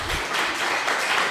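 A short burst of applause from a lounge show audience: dense, even clapping close by, lasting just over a second.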